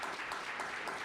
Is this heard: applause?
yes